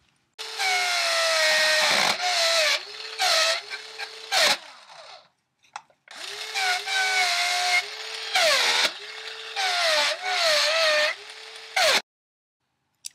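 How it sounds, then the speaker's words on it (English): Thick chipboard fed through a Distrezz-it-All distressing tool, giving loud close grinding, rasping passes in two long bursts with a pause between, the motor pitch dipping briefly as the board bites. "this is a little bit thicker, so it's better to do the distressing against the wheel"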